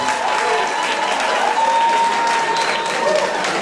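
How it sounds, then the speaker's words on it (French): An audience at an Afro-DJs event with radio Tropic FM applauds in a loud, continuous burst of clapping, with cheering and a few voices mixed into the crowd noise. "Applaudissez toutes celles et tous ceux qui font en sorte qu'Afro-DJs existe."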